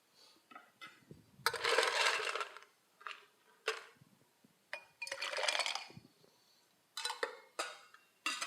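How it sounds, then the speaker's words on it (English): Ice rattles and clinks in a cocktail mixing glass in several loud bursts with short pauses, a crunchy clatter up close. "So now let's add a little bit of ice to this mixing glass,"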